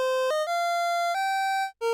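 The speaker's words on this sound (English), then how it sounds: "And here's the violin." A Roland SH-1000 synthesizer plays its violin preset: a short melodic phrase of sustained, harmonically rich notes stepping between pitches, with a brief gap before a final held note, all loud and close with no talking.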